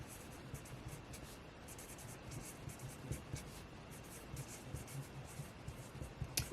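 Pen scratching across a savings binder envelope in short, quiet strokes, close and soft over a faint room background, ending in a couple of sharper taps.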